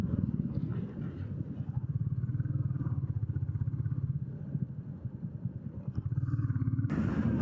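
Motorcycle riding on the old, partly broken Vajreshwari road, its engine a steady pulsing rumble with rough bumpy clatter throughout and a louder burst near the end.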